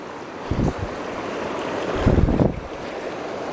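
A river flows just upstream of a campground in the Black Mountains near Mt. Mitchell. It makes a steady rushing wash with two louder gusty surges, close to the microphone and mixed with wind buffeting.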